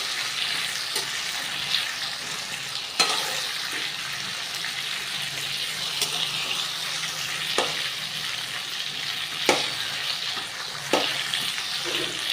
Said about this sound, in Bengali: তাই আর অল্প একটু সামান্য ভেজে নিচ্ছি